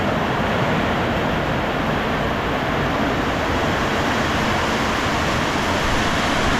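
A wave of heavy rain comes down as a dense, loud, unbroken roar, steady from start to finish, with no voices.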